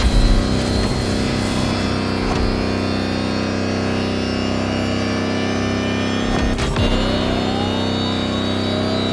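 An electric Lamborghini hypercar driving in the racing game The Crew Motorfest, a loud, sustained synthetic motor whine with rising tonal sweeps and a couple of brief sharp transients, steady and close with no voices.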